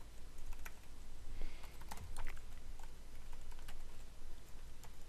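Steady keystrokes tapped on a computer keyboard while coding in C++, a continuous quiet patter of clicks with a few sharper key hits, close up with no talking.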